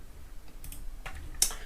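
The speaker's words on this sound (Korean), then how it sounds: "2340을 이렇게 타이핑해주고" Numbers are typed on a computer keyboard in a few quick, close, light key clicks, with the last keystroke sharper and brighter than the others, over a quiet background.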